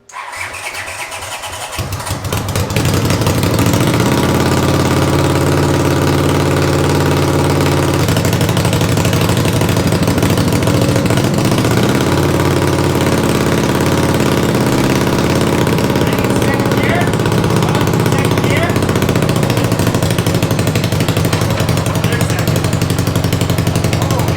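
A 500cc racing lawn mower engine cranks with a few rough sputters, then catches and runs loud and steady at a high idle, droning continuously close by.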